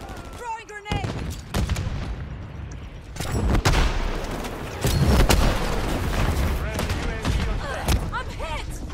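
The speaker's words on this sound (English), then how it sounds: "Throwing grenade!" Gunfire and explosions in the video game Modern Warfare 3, with sharp repeated shots, bursts of rapid fire and a heavy boom amid loud combat noise, while voices shout over the action.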